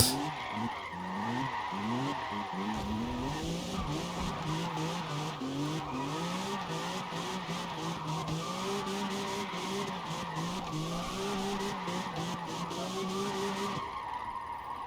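Car tires screeching in long, wavering squeals while drifting on the handbrake in a video game, with engine revs underneath, continuous and fairly loud until cutting off near the end.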